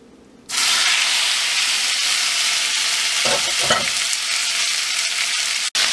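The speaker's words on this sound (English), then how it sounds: "searing it is literally cooking it like on 1 minute on each side" Chicken pieces sear in a hot pan with a sudden loud, steady sizzle that starts abruptly and holds continuously, close up, with a brief clunk near the end.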